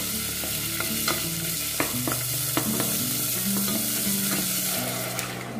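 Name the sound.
heating oil with curry paste in a pot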